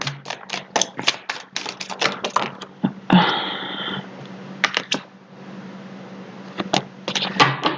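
A deck of tarot cards is shuffled in a quick flurry of crisp riffles and taps, followed by a fuller riffle burst, a few scattered clicks and another short run of shuffling close by. No voice is heard.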